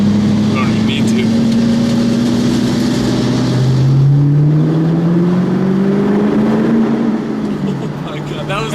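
A 2010 Ford Mustang GT with the 4.6 V8 and Magnaflow exhaust revs up loud and close, its deep drone climbing in pitch and then falling back, with voices talking over it.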